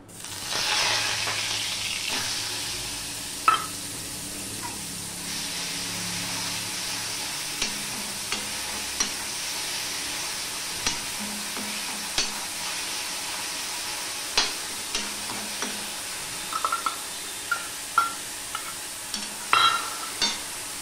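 Onion paste sizzles steadily in a hot pan with turmeric while being stirred, a continuous frying hiss broken by frequent clicks and scrapes of the spoon, close up and with no talk.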